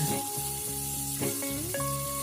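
Marinated pork stir-frying for yakisoba, a steady loud sizzle with hiss throughout, close up, joined by a few scrapes and tonal tones from the pan.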